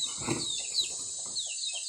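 Chickens cluck and squawk briefly at close range over a steady high-pitched insect-like drone, with no talking.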